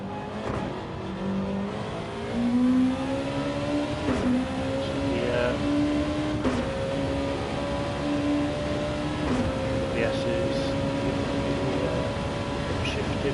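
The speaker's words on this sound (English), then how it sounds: "we're going to go for a lap with Scott. So this first corner full chat, find your braking point" A Nippon GR2 race car laps a circuit, its engine droning steadily with pitch rising and falling through gear changes and corners, heard from inside at a constant moderate level.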